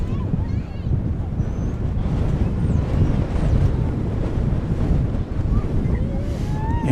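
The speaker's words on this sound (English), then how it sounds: "it is a very windy day here at DFW Airport" Strong gusts buffet the microphone outdoors at DFW Airport, a loud low rumble with steady roaring turbulence throughout, while a voice speaks over it and faint radio chatter comes and goes.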